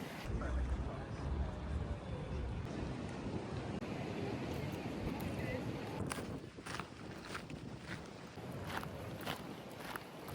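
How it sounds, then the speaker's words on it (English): Wind blows outdoors on a fine day in Austria, a steady broadband rush that buffets the microphone throughout, with faint voices and occasional sharp noises. "there is a nice wind, which you can probably hear"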